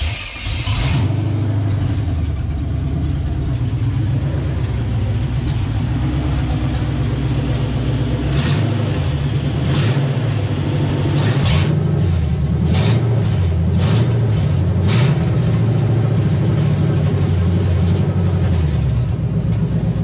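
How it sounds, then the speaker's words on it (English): Rebuilt Chevy 350 V8 in a 1989 Chevrolet K2500 truck with freshly adjusted valves, starting up and settling into a loud, steady idle with a low rumbling throb and a few blips of revving, no talking. "After I got all the valves adjusted, it runs really, really well. And I'll fire up real quick just to show you"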